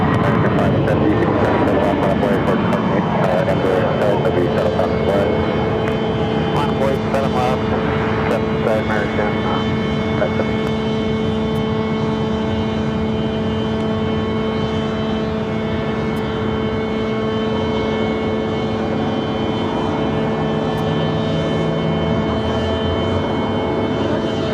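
A Skyline airliner takes off with a loud, steady engine roar that holds throughout, while a radio voice speaks over it.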